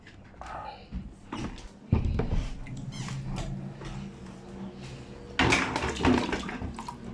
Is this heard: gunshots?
no